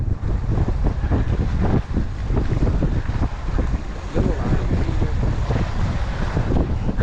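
Strong gusty wind on a lake shore buffets the microphone continuously, a loud low roar with rough bursts, no voices.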